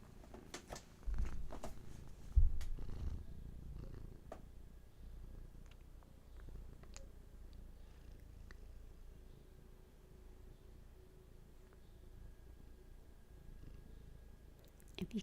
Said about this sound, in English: If you can hear Hattie's purrs